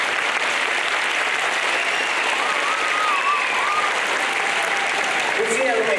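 Applause from an audience at the opening ceremony of SpaceFEST, a steady dense wash of clapping throughout with faint whistles or cheers, held at a fairly even level.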